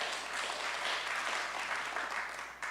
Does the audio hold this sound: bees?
no